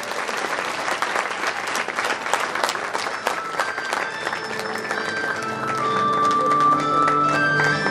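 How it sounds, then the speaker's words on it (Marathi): A crowd applauds loudly and continuously at a club's twentieth anniversary celebration, a dense close clapping that swells toward the end, with faint voices and music in the background. "एकदा जोरदार टाळ्या होऊन जाऊ द्या।"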